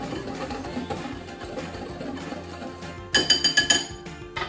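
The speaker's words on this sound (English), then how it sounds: "So with a whisk, I'm just gonna sort of whisk it through really well." A whisk is worked through dry bath bomb powder in a bowl, giving a soft scraping swirl followed by a quick burst of bright clinking taps against the bowl's side.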